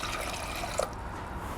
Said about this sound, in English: Add the cold water.